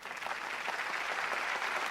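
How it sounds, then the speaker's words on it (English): Audience applause for an award winner at a mathematics foundation awards function, steady dense clapping throughout at moderate level with no voices. "Now we give a round of applause to Norette Nieuwenhuis, Law School, Eikestad"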